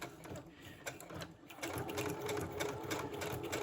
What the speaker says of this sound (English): So first I'll do a straight stitch.